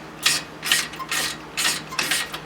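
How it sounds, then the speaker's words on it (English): A hand ratchet clicks in five quick rasping bursts while cracking loose the front brake caliper slide pins on an Impala Caprice, close up and alone without talk. "we're going to crack loose our caliper slide pins."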